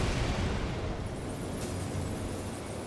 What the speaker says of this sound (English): they just flew above the explosion